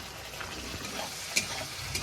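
Spice paste of turmeric, chili and cumin powders sautéing in a pan for a thin hilsa and eggplant curry, a steady close sizzle with a few stirring scrapes.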